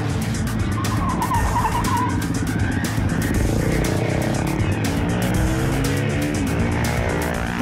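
Tires on a 250cc Hyosung or Megelli motorcycle squeal loudly and continuously over engine roar, a close, sustained skidding screech.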